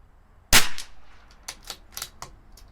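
A CZ 457 rifle fires a single sharp, loud report outdoors during an ammunition test, followed by a quick run of lighter metallic clicks and clacks from working the action.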